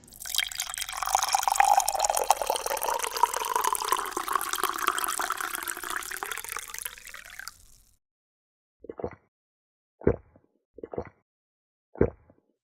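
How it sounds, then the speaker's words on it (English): Hot coffee streams from an old thermos into a mug in a steady gurgling pour lasting several seconds, then stops, leaving a few separate drips in near silence. "Sitting at the counter, Kaneki pours a hot mug of coffee from his old thermos."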